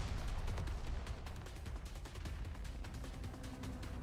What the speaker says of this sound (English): The wall flies apart in the explosion.